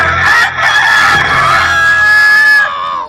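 A single rooster crow rings out loud and alone during an Easter church play, rising into a long, drawn-out call that fades off near the end.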